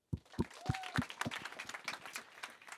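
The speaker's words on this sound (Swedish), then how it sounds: "En stor applåd." An audience at the YouTube Accelerate Sweden event breaks into applause, opening with a few distinct, spaced claps that quickly thicken into steady, moderately loud clapping from the crowd.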